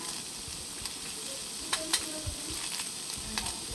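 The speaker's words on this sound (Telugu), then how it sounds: "టమాటా ముక్కలు వేసుకొని కలుపుకోవాలి." Onion and tomato pieces sizzle steadily in a pan for ginger chutney, with a few soft scrapes and taps of a spoon stirring through the frying, quiet and close, with no talking.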